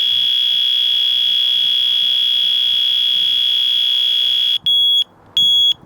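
A Nitecore NWE10 electronic outdoor whistle emits a loud, piercing steady shrill tone for several seconds, then shifts into short on-off SOS pulses, all close and alone.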